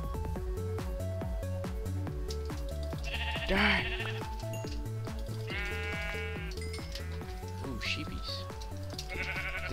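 Sheep bleat in the Minecraft video game, short bleats rising out of steady game music with a stepping melody, moderately loud and close.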